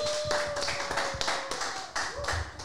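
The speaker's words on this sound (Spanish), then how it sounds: "yo quiero que me lo reciban las personas que están aquí en el estudio con un aplauso" Studio audience clapping to welcome a guest onto a television talk show, a few distinct bursts of claps from a modest crowd, fairly close and moderately loud, with a faint tone held beneath.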